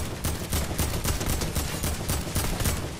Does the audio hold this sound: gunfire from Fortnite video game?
yes